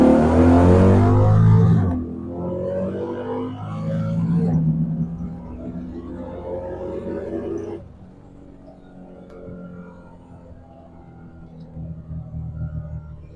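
A Killshot drag car accelerates hard from a 20 mph roll, its engine roaring loud and close at first, then easing back in waves with brief shifts between pulls.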